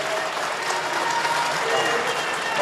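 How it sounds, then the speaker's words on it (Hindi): Crowd applauding at a political rally in Gurdaspur, a dense, steady wash of clapping from many hands that holds at an even level throughout, with no voices breaking through. "सब हाथ उठाकर दोनों हाथों से ताली बजाइए"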